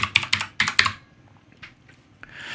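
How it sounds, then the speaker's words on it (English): A password is typed on a computer keyboard, heard as a quick, close burst of key clicks followed by a few sparse, fainter taps after a pause. "then type out my password"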